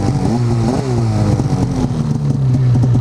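A warmed-up snowmobile engine fitted with a GGB trail can exhaust idles and blips close by, its deep, throaty note rising and falling with small revs over a steady rumble.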